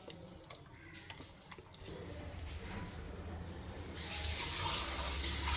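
Tap water running steadily into a sink with light clinks of a mixer jar being rinsed; the flow gets louder and fuller near the end.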